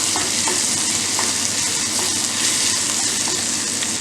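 Crushed garlic mixed into a frying brinjal kuzhambu, a loud, dense, unbroken sizzle close by, with faint stirring scrapes and no voices.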